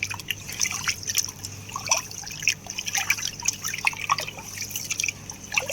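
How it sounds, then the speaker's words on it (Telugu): A quarter tin of white rice is washed by hand in water, with soft irregular drips, trickles and sloshing close by and no talk. "సో ఈ పావు డబ్బా బియ్యం కడుక్కుంటున్నాము, వైట్ రైస్ వండుకుంటున్నాము."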